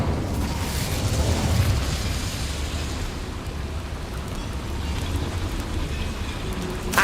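An Incendio fire spell from Hogwarts Legacy erupts in a loud, rumbling blast that swells then settles into a crackling, noisy roar lasting several seconds.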